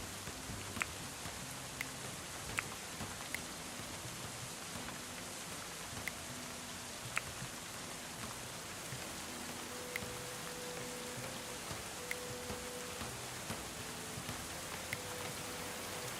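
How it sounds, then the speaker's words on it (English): Steady rain falls over a village in a video game, a constant even hiss with scattered sharp drop ticks and faint low tones beneath, no voices. "Here comes the rain again, raining on my village."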